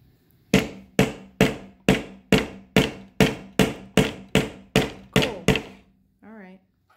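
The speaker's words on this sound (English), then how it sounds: "You have to control the hammer" Twelve evenly spaced hammer blows ring out close by while building a football goal, in a steady rhythm, each a sharp metallic strike, followed by a brief voice.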